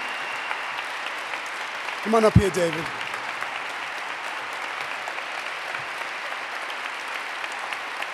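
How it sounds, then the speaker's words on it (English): Audience applause fills a gala hall for the Sarcoma Foundation of America, steady and broad throughout, while someone speaks briefly over it near the middle. "Just hold your applause for a few seconds"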